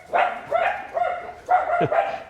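Dogs bark in a quick series of four or five sharp, close barks with short gaps, loud and clear.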